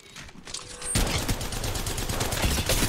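Rapid automatic gunfire from the mobile battle-royale game Apex Legends Mobile bursts in after a brief lull, a dense, continuous rattle of shots at moderate volume lasting the remaining couple of seconds.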